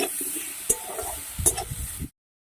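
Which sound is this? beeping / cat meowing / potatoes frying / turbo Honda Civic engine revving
potatoes frying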